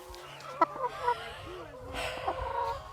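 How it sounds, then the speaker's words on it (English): Free-range chickens out in the open on a farm give a few soft clucks and calls against quiet outdoor background, with faint voices now and then. "chickens are raised out in the open"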